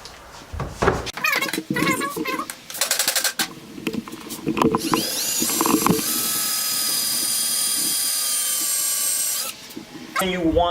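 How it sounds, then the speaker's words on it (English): A Harbor Freight drill bit bores into a horn nock for a warbow. Scattered mechanical clicks and handling knocks lead into a close, sustained high drill whine lasting several seconds, which then stops. "I've got this drill bit from Harbor Freight, and I'm pretty much gonna go ahead and drill"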